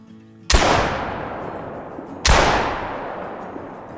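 Two loud gunshots in the hunting game theHunter: Call of the Wild, fired roughly two seconds apart during a duck hunt, each a sharp crack followed by a long rolling echo that fades out.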